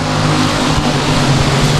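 Stock cars roar side by side on the opening lap at Lonestar Speedway, a loud, steady wall of engine drone right up close with no pauses.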